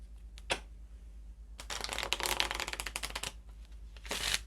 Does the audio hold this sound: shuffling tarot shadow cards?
yes